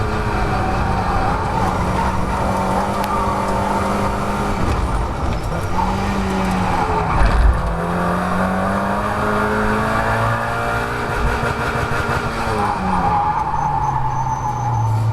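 Heard from on board, a Mazda MX-5 race car at Croft circuit is driven hard into a corner under heavy braking. Its engine note rises, falls and shifts through downshifts, loud and close throughout, with no talk.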